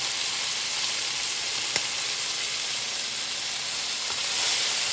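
Garam masala sizzling in hot oil in a pan while mutton biryani is cooked, a steady close hiss and crackle with one brief clink of a utensil, and no voices.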